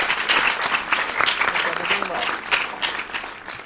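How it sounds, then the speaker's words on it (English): Audience members at a school quiz competition clap in a lively, uneven burst of applause, with sharp hand claps rising and falling while voices chatter and call out underneath. "A big round of applause."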